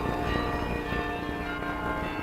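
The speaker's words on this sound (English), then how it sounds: "The chimes of its famous carillon fill the air." Carillon bells of a Baroque church in Portugal ring out in a dense, sustained chime with overlapping resonant tones, steady and fairly loud throughout, with no voices.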